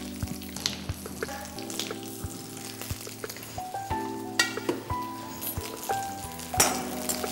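Green chilies and cashews sauté in a hot pan with a steady sizzle, punctuated by sharp clicks and scrapes of a spoon stirring against the metal, fairly close and quiet, with no talking.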